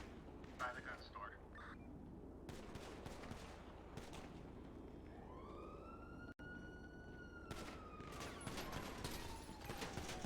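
A shooting near a gun store in GTA roleplay, heard as dense bursts of game gunfire mixed with siren wails and a continuous noisy background, with voices talking throughout.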